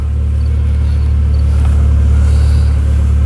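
A VW MK4 Golf 2.0L engine idles close by with a loud, steady low rumble that holds an even, unbroken pitch throughout.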